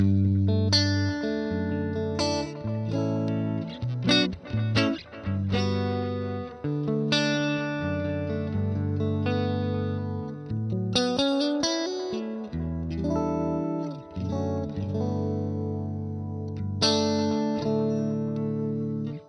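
Clean electric guitar playing chords and single notes through a Neural DSP Cory Wong amp simulator, with a dry, processed tone, steady and close, with no reverb tail and no voices.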